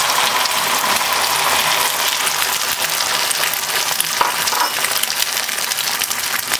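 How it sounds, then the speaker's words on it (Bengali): An omelette fries in hot oil on a tawa, a steady, close sizzle that holds evenly throughout with no talking. "এবার বড় করে একটা অমলেট ভেজে নেব"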